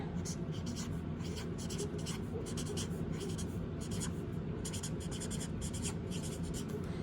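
A pencil writes on paper in a stretch of quick, scratchy strokes that come in repeated bursts, close and fairly quiet, with a faint low room murmur underneath.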